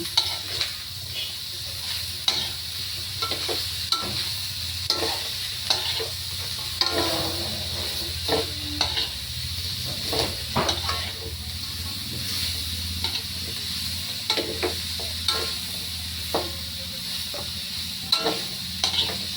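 Carrots and chayote sautéing together in a pan for ginisang gulay with pork: a constant close sizzle with repeated scraping stirs and clacks of a utensil throughout, no voices.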